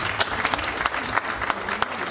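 An event crowd applauds Mr Diop, a brief burst of brisk clapping from many hands, moderately loud and continuous across the short stretch.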